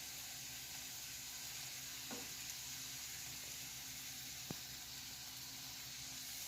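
Beef and broccoli sizzling in a hot pan as Trader Joe's sweet and spicy sauce goes in, a steady, quiet frying hiss with a couple of soft taps from a utensil.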